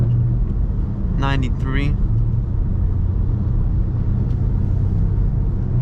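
A BMW M5 Competition with an aftermarket exhaust and stage 2 tune on 93 octane rumbles steadily at a low, constant drone, with a driver talking over it throughout.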